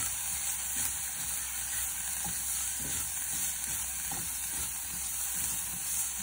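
Leaves sautéing in a pan give a continuous bright sizzling hiss with faint stirring scrapes underneath, steady and close throughout, with no talking.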